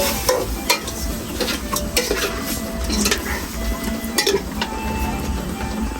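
Food is stir-roasted with salt in a pan, with continuous scraping and stirring, a soft sizzle and occasional sharp clinks of utensil on metal, close and steady throughout.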